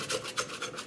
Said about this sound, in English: We'll turn this dough out. Handy bowl scraper,